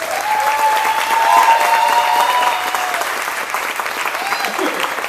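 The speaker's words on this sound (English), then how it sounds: "Let's give a big round of applause" Loud audience applause at a culinary festival fills the whole stretch, steady dense clapping with a few whoops and cheers rising over it.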